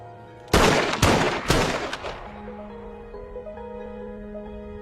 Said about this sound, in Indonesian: menembak kakaknya tersebut hingga tewas